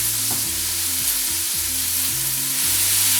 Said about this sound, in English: I'm going to brown the other side.